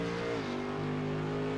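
GT3 race cars in a racing game roar off the line at the race start, a loud, sustained engine drone whose pitch dips briefly then holds steady, with no talk.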